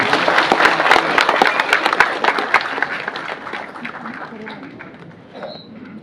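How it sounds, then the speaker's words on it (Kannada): An audience claps loudly at a tribute to a poet, the dense applause strong at first and gradually thinning and fading, with some voices underneath. "ಹೊಡೆದಿ ಚಪ್ಪಾಳೆ ಜೋರೆ"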